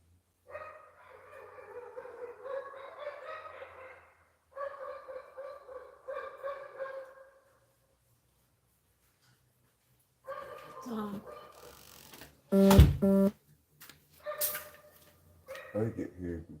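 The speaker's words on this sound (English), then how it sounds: "it sounds like an anticipatory bark" A dog gives short barks and yips along with some whimpering, set apart by pauses, at moderate loudness, with people talking nearby.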